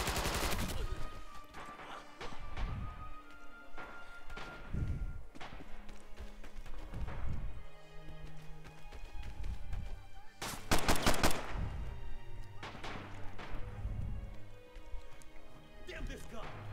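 Repeated rifle and machine-gun fire in the World War II shooter Red Orchestra 2, sharp close shots and a dense burst midway, with a player talking over the combat.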